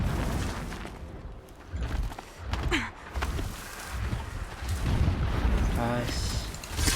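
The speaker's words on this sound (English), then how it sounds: "Explosions in the distance." Deep booms of distant explosions roll in from the Horizon Zero Dawn game world in several muffled bursts, spread over a steady low ambient rumble with no talking.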